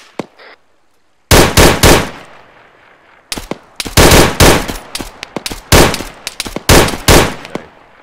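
Bursts of rifle and machine gun fire during airborne field training, loud and close, with rapid strings of shots in several clusters separated by short pauses, plus a faint voice early on.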